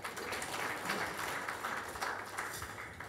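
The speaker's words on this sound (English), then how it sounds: "Give us a clap for giving you opportunity." Applause from an audience at a Nairobi marketers' evening event, a steady, fairly faint wash of many hands clapping throughout with no voices standing out.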